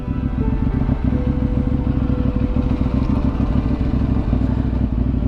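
A KTM motorcycle rides a rough green lane in the Derbyshire countryside, its engine a loud, close, continuous chugging rumble mixed with clattering and wind buffeting, heard alone without talk.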